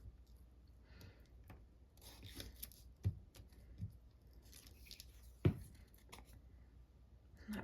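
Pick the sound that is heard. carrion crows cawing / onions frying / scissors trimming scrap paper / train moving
scissors trimming scrap paper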